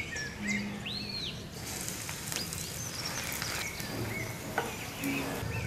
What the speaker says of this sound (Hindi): ब्रेड को हम ब्राउन होने तक फ्राई करेंगे।